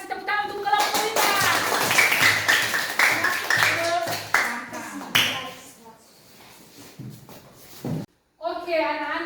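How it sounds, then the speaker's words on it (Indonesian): A school class applauds a student group, short bursts of many hands clapping mixed with voices, then thinning out as talking takes over. "tepuk tangan untuk kelompok 5."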